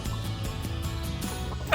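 Chickens near a backyard chicken run, clucking repeatedly in short, close, moderately loud bursts over a steady low background, with a brief louder scuffle at the end.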